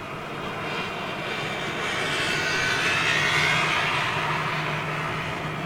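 An Iberia Airbus A320ceo jet at Madrid Barajas produces a sustained engine roar with a whining tone that swells toward the middle and stays strong and continuous throughout.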